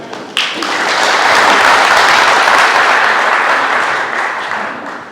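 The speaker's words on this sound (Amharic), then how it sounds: "ትልቅ ጭብጨባ ሞቅ በላችሁ" Crowd applause at a 30-year anniversary celebration for Universal Plastic Factory swells quickly into a loud, sustained roar of many hands clapping that fades slightly near the end.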